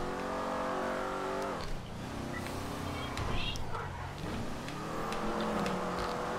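A sports car engine in Grand Theft Auto Online revs and shifts, with rising and falling harmonic whine, a gear change drop and a throaty surge, while players chat over it.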